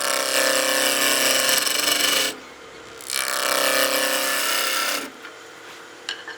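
A skew chisel shaves a hard maple blank on a wood lathe for a gnome ornament, making a loud continuous rasping hiss in two long passes separated by a short break.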